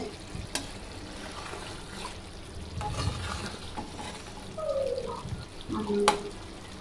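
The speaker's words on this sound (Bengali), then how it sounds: "ধনিয়া গুঁড়া, জিরা গুঁড়ো দিয়ে এটাকে কষিয়ে নেব ভালো করে।" Chicken sautéing with coriander and cumin powder, a quiet sizzle with stirring scrapes and a few utensil clinks, close by, with brief faint voice-like sounds near the end.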